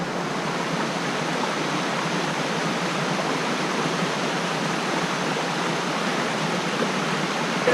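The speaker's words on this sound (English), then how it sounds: "Better view of the waterfall." A waterfall on Deuel Creek roars in a steady, dense rush of water, close and loud, with no voices over it.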